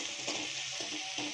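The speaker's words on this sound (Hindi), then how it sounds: "प्याज के साथ हम डालेंगे हरी मिर्च, इसको भी साथ में भूनेंगे।" Onion and green chillies stirred and fried together in a pan, a steady bright sizzle with a few soft scraping strokes of the spoon recurring about every half second, close and alone with no talk.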